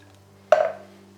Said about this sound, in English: I'll pour maybe another 100 grams of water inside my tin